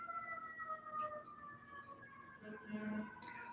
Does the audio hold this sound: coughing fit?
no